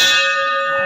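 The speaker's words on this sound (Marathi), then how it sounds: "वाजवली बाई घंटा." A metal temple bell at the ancient carved stone Kopeshwar temple gives one loud, ringing strike, with a bright sustained tone that slowly decays.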